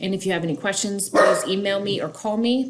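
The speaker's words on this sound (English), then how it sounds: "Please excuse the dog. She's wanting to get outside." A dog barks indoors, several quick sharp barks and yips in a row, loud and close, overlapping a person talking.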